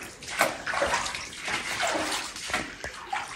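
Boots wading through ankle-deep water in an abandoned underground military power station, steady sloshing and splashing with rhythmic surges from each step, close and continuous, without speech.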